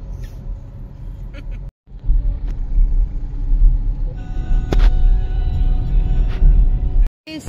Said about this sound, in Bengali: আর ড্রাইভিং সিটে অ্যাজ ইউজুয়াল আমাদের রামু কাকা। রামু কাকা ইজ অন ড্রাইভ মোড